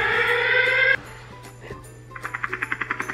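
A loud electronic buzzer blares for about a second and cuts off, followed by a low hum and then a quick series of rapid beeping pulses.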